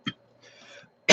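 A single cough from someone eating very spicy Reaper Ranch chips: a sharp burst near the start, a faint breathy stretch after, then a second loud cough at the very end, close and alone.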